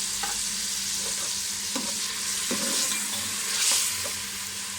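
Chopped tomatoes frying with garlic in a pan for an aloo anday dish, a constant close sizzle with a spoon stirring and scraping in several distinct strokes, no talk.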